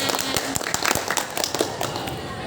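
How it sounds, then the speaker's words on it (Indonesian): Children clap their hands together in a quick burst of sharp, uneven claps, close and fairly loud, with faint voices in the background. "Oke, tepuk tangan."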